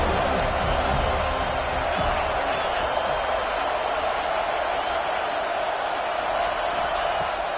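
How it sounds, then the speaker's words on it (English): A home crowd roars at a college football game between Ohio State and Florida State, a loud, sustained wash of stadium noise that holds steady throughout. "how nice is it to have the home crowd going absolutely bananas?"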